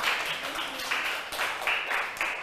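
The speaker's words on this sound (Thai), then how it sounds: "ถูกต้องปรบมือให้เพื่อนด้วย" Primary school students in a math classroom clap together for a classmate in quick, rhythmic bursts that repeat steadily, with voices mixed in.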